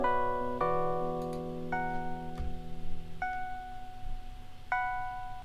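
Piano harmony converted into a new MIDI track in Ableton, playing sparse sustained chords and single synthetic notes, with a few separate struck tones ringing out at moderate volume with no voices.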